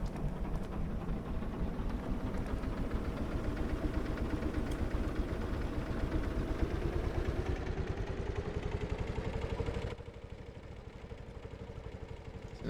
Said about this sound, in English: That'll rev up to about 12 RPS, and then it'll come back down.